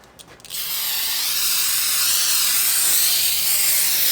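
After a few quiet knocks, brake cleaner blasts onto a Buick LeSabre 4T60 transmission pan in a long, loud, steady aerosol hiss that runs to the end.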